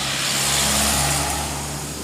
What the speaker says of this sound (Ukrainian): Машина їде.